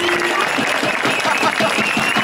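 An audience applauds after a rap performance at a small event, steady dense clapping close by and continuing throughout, with a voice faintly underneath.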